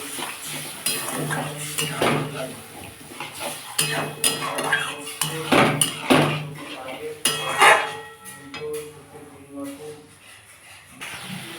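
A spoon scrapes and clinks against a pan while spinach and paneer with sour curd are stirred and sautéed, in irregular bursts of metallic knocks and faint sizzling, with someone talking throughout.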